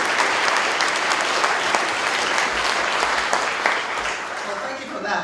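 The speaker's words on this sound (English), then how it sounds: "thank you for that applause" Sustained applause fills a conference hall at a trade union and socialist gathering, steady dense clapping from a large audience that fades slightly toward the end, with no voices over it.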